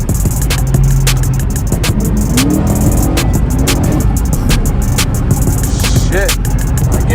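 A straight-piped Chrysler 300S Hemi V8 driven at night in Mexico, revving and downshifting with a loud, continuous raw exhaust roar heard from inside the car, punctuated by crackling pops and rapid clicking.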